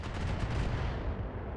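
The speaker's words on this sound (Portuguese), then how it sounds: "Aparentemente ele errou um tiro e só pegou os mísseis." Weapon fire from a mech in the BattleTech video game, with dense, loud booming gunfire and blasts filling the whole stretch without pause, missile impacts mixed in, and no talk.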